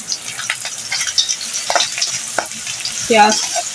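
Onion sizzles in a pan for homemade fried rice, a close, steady hiss broken by scraping stirs, with a brief louder clatter near the end.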